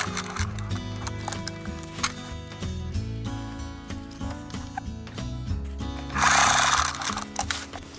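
A sewing machine stitches a military name and rank patch, its rapid mechanical whir running steadily and close, with a louder hiss of noise near the end.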